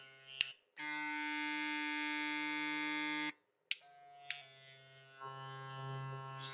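A Klipaz MC1 charcoal hair clipper switches on and runs at its 8,300 RPM setting, a steady close buzzing hum lasting a few seconds, then stops with clicks before starting again.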